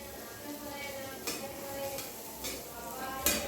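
Food being stirred in a pot in a home kitchen, with soft scraping and a few light metallic clinks over a steady low background hum.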